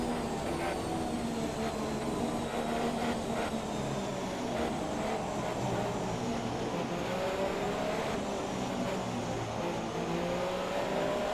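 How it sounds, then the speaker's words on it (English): Continuous high-pitched Formula 1 car engine whine in the video game F1 2017, with rising and falling revs, steady and fairly loud, without voices. "It's Ricciardo coming out of pits."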